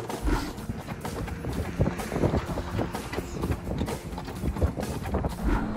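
A horse's hooves clip-clop steadily along a village road in rural Bucovina, Romania, close to the microphone and mixed with buffeting wind noise, with no talking.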